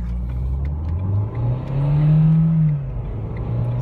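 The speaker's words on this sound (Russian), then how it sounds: "протестируем, как разгоняется Renault Captur до 100 км в час" A Renault Captur diesel engine with six-speed automatic transmission revs up accelerating from standstill to 100 km/h, the pitch rising steadily, dipping at a gear change and then climbing again, heard from inside.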